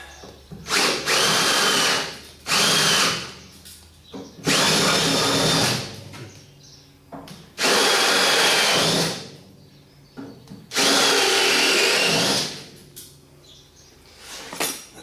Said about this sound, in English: if I can just drill the head to weaken it